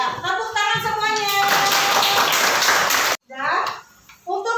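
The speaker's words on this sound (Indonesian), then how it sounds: "Ya, tepuk tangan semuanya." Classroom applause from students, a dense burst of clapping running for about three seconds mixed with voices, then cutting off into quieter chatter.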